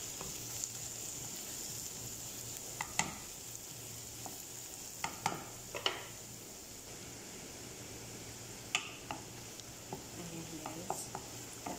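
Onion and garlic sauté quietly in a pan, a soft continuous sizzle broken by occasional spoon scrapes and light clinks, faint and fairly distant.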